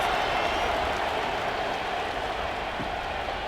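A stadium crowd in the College Football 26 video game, a steady dense roar of many voices holding at an even level throughout, with no clear individual shouts standing out.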